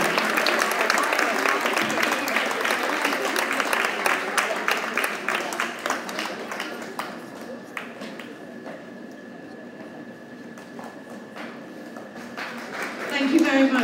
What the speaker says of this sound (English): Let's give a round of applause to Year 5 who are going to take over being the leaders in Year 6 next year.